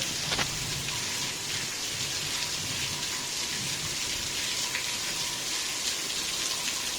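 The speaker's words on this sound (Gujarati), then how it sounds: "અમારે તો અત્યારે વરસાદ આવી રહ્યો છે" Steady heavy rain pattering on surfaces, a constant dense hiss with scattered louder drops, no voices.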